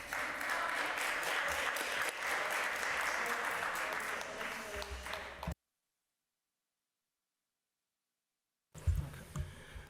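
Audience applause in a city council chamber during a hearing, a sustained round of clapping for about five seconds, then silence before a brief burst of room noise.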